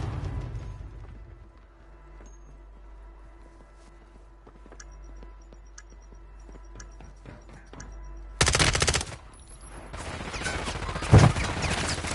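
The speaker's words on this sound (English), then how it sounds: "Throwing stun grenade." Stun grenade thrown during a Call of Duty Warzone Plunder match: muffled rattles and ambient game noise, then a sudden loud bright burst near the end with a harsh ringing wash lingering afterward, no talk.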